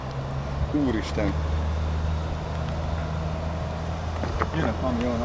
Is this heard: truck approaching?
yes